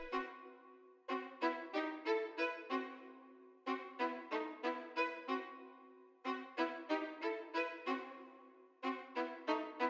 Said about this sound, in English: I started off with violin staccato MP and it just sounds like this